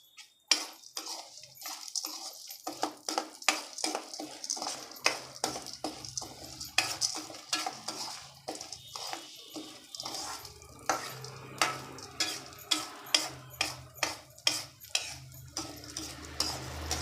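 Spice powder roasting in a little oil in a pan, stirred with a utensil that scrapes and clicks in quick repeated strokes over a soft frying hiss, close up with no talking.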